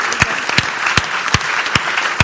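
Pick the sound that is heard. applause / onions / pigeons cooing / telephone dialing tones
applause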